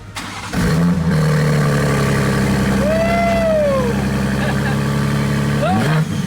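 A 2023 BMW M3 engine starts and then runs loudly at close range, holding a steady idle with a couple of brief rising revs and a whine, without speech over it.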